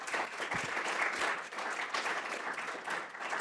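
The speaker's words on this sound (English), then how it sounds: "ladies and gentlemen, give her a round of applause" An audience at a pension conference applauds a speaker, steady dense clapping filling the room at moderate distance, continuous from start to end with no speech over it.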